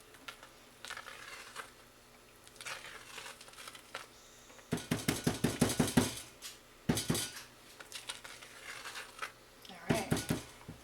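A utensil stirs thick hot-process carrot soap in a metal pot, giving clustered scraping and clanking strokes against the pot walls in several bursts, close, with a person talking between them.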